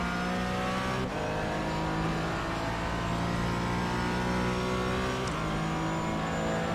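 A race car engine in the iRacing sim at Sebring drones loud and continuous with steady high revs, briefly dipping twice as gears shift, with no talking over it.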